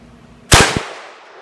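A single loud, sharp report from a Mosin rifle fired outdoors, cracking sharply and then decaying into a short echo with no talk.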